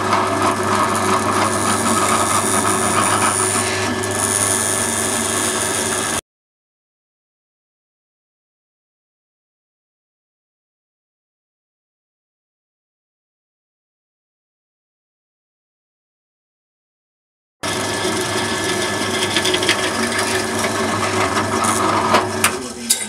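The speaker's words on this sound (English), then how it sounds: "Holes drilled." A drill bores holes during an air compressor install on a Toyota Land Cruiser 200, giving a steady loud grinding whir in two long bursts separated by a stretch of silence.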